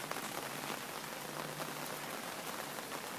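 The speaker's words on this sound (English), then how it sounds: "It's raining again." Steady rain falls on a narrow stretch of the Old Tokaido Road in Japan, a soft continuous patter with scattered drop hits throughout and no voices.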